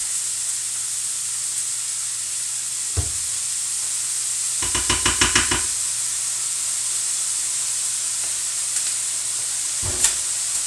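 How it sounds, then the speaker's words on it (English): Sausage and syrup go into a squash filling in a hot pan, giving a brief cluster of quick scraping stirs over a steady hiss, with a couple of isolated knocks before and after. "Adding the sausage. And I'm going to add 1 more tablespoon of the syrup."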